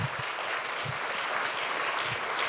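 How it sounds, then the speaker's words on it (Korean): Congregation clapping during a church sermon, a dense even wash of applause from many hands in a room, steady and fairly loud for the whole short stretch with no talk over it. "자, 박수 한번 쳐주세요."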